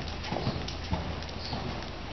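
A horse named Rocky cantering during a riding lesson, its hooves striking in a steady, close, rhythmic clip-clop with no voices over it.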